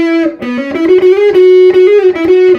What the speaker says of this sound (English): let's turn on the distortion and see what we get.